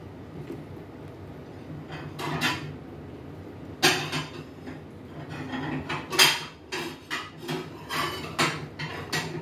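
Mung beans stirred in a metal cooking pot give off scattered clanks and scraping knocks, near and fairly loud, arriving in irregular bursts with a steady low background hum between them.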